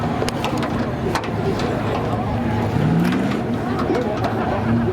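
Race car engines roar continuously during spectator drags at Seekonk Speedway, loud and steady with shifting pitch as the cars run, while an announcer talks over the din.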